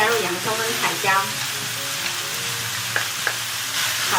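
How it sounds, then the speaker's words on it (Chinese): Minced beef fries with onion and bell pepper in hot oil, a close, bright sizzle with scattered pops and clatters of a spatula tossing the mix, fading slightly toward the end. "肉末炒到变色了之后呢，加入洋葱跟彩椒，"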